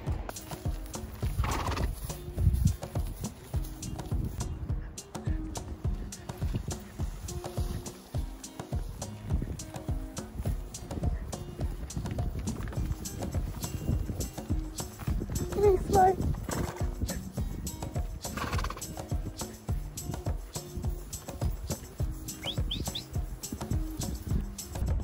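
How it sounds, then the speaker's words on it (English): Horses carry riders uphill on a trail in Colombia's Cocora Valley, their hooves clip-clopping steadily close by, with occasional whinnies, snorts and birdsong mixed in and voices talking now and then. "We're going all the way up right now, uphill. Doing it by horseback."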